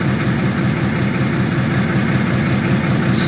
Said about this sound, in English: I don't know if these engine sounds are accurate or not